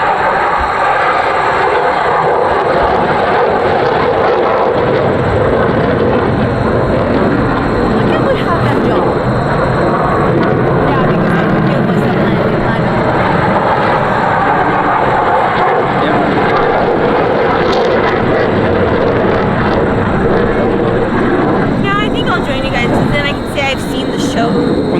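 F-15 Eagle fighter jets roar overhead at a London airshow, a loud, continuous engine rush that swells and holds for the full length, with spectators talking beneath it.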